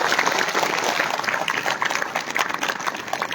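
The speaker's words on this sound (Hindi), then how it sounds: "तो एक बार अक्षय जी के लिए जोरदार तालियां हो।" Loud, dense applause from a school crowd at an International Yoga Day celebration, a steady wash of many hands clapping throughout, close and sustained.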